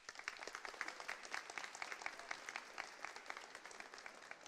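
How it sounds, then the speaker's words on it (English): A commencement ceremony audience claps, a fairly quiet, thin round of applause with individual claps audible as a loose, uneven patter. "So now we're going to give them a big round of applause."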